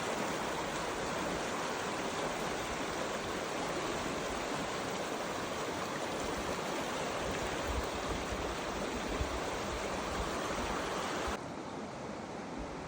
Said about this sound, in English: our little section of the creek has swelled to its usual river dimension